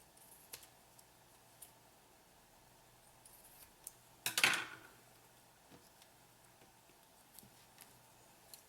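Scissors slice through a strip of duct tape in a single quick, close snip, surrounded by quiet room tone and a few faint handling clicks.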